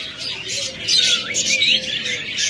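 A pair of pet birds, likely budgerigars or similar small cage birds offered for sale, chirp in quick bright bursts, fairly close and steady, with faint background noise and no clear talking.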